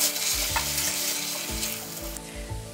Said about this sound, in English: I'm gonna start browning up my meat